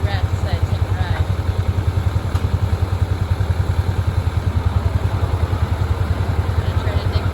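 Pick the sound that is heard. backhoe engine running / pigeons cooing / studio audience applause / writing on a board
backhoe engine running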